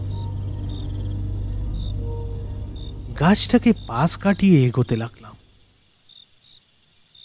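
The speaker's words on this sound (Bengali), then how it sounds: "চারিদিকে শুধু ঝিঝি পোকার ডাক কানে ভেসে আসছে" Faint, steady cricket chirps hum through a quiet night, briefly overlaid by someone speaking before the chirping continues alone.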